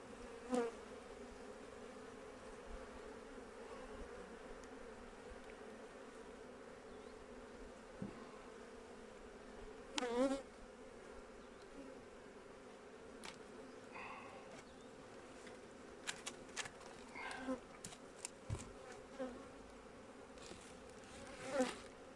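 Honey bees buzzing during a beehive inspection in November, a continuous low droning hum around the open hive, fairly faint and steady with occasional clicks and handling knocks, no speech.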